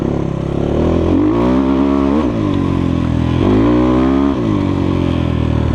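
A Kovi Lite 300 enduro motorcycle rides through a forest, its engine close and loud, revving up and down in repeated rising and falling surges as the rider shifts and accelerates.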